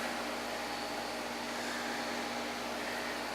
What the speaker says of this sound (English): This air conditioner got to get fixed. I think it needs Freon or something in it because it's not putting out no cold air.